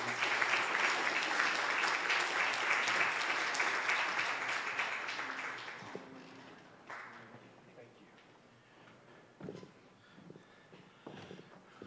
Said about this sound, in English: Ladies and gentlemen, please give a big round of applause to Mr. Morrison.